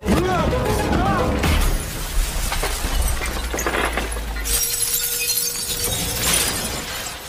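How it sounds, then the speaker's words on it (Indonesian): A mirror shatters as a man is slammed into it in a film fight scene, a loud crash with scattered glass debris under music and a narrating voice. "si tukang tato membanting Nate ke sebuah cermin sampai pecahan cermin pun berserakan"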